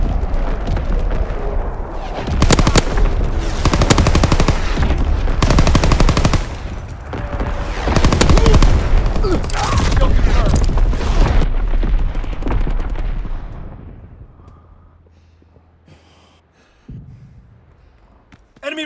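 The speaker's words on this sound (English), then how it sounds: "Enemy bomb incoming. Get to cover. Incoming enemy artillery." Dense, loud bursts of machine-gun fire and heavy explosions from enemy artillery in Call of Duty WWII, sustained for a long stretch before thinning out into a quieter tail.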